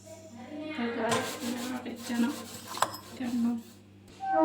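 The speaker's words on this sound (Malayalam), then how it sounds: "അപ്പം ഞാൻ ഒന്ന് തുടച്ച് കൊടുക്കാം." Someone wipes a dirty cooking stove clean, producing close, repeated rubbing and scrubbing strokes with a few small clinks, while a person talks throughout.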